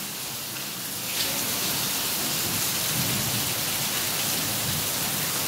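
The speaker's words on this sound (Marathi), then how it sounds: "पडायला की नाही आज पाऊस?" Heavy rain pours steadily in a dense, continuous hiss that grows a little louder after the first second, with no voices.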